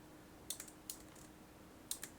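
Keys tapped on a computer keyboard while setting animation keyframes, a few sharp separate clicks in short clusters over a quiet background.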